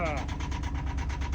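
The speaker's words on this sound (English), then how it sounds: "See if that'll get my motor to start." A boat's motor cranking and catching on a windlass battery, a steady loud engine rumble with regular pulsing, close by and filling the whole moment.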